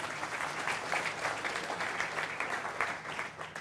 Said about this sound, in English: This is where you clap, clap.